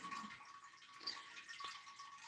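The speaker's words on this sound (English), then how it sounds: "I'm running water." Water runs from a tap in a steady, faint hiss of flow with a soft splash underneath and no talking.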